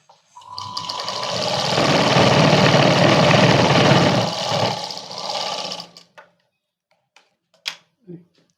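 A sewing machine stitches the sleeve of a Punjabi dress, running steadily and fairly loud for about five seconds before stopping, followed by a few faint clicks and handling sounds.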